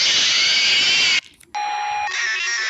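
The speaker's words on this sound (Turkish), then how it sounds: "Alarm." A loud electronic alarm in a Five Nights at Freddy's fan game blares steadily, cuts out briefly, then returns as a harsh, high-pitched buzzing tone.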